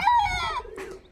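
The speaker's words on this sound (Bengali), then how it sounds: "এই যে মোরগের মোরগের ডাক" A rooster crows once, close and clear, in a village with mud houses; the long, falling call fades into quieter background sounds.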